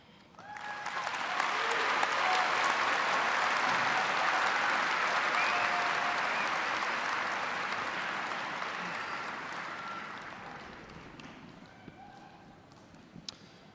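A large graduation audience applauds performers and speakers, clapping swelling quickly to a broad steady roar, holding for several seconds, then slowly tapering to scattered claps.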